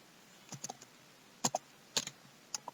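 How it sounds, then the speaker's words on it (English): Someone types on a computer keyboard in a quiet room, producing short clusters of crisp keystrokes separated by brief pauses, close and fairly soft. "So now I'll be typing in the user for my database."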